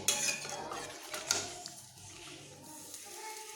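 A lid clatters down onto a cooking pot of ridge gourd, vegetables and lentils simmering in water, with a couple of sharp metallic knocks followed by quieter kitchen rustle.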